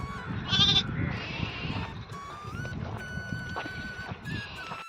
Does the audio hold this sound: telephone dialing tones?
no